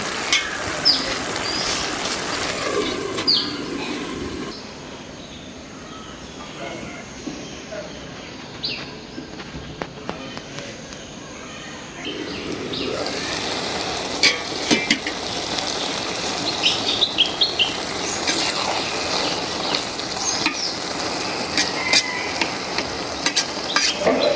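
Fish fry and sizzle in a hot pan while a spoon stirs and scrapes steadily; the sizzle turns muffled for several seconds, as though covered, then comes back up loud and close.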